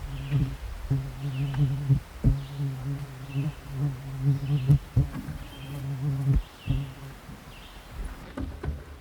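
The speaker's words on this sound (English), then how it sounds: "And the mosquitoes are absolutely horrendous, so put the bug spray on right away." Insects buzz steadily around someone on an old road through the forest of the Nepisiguit Trail during mosquito season, a droning hum broken by brief knocks and rustles.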